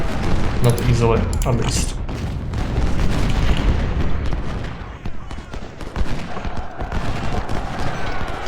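Cannon booms and dense musket fusillades roar through a Civil War battle in the strategy game Ultimate General: Civil War, a loud continuous barrage of overlapping shots with someone talking over it.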